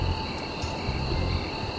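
A steady chorus of crickets chirping in the background, high and continuous, fairly faint with low rumble underneath.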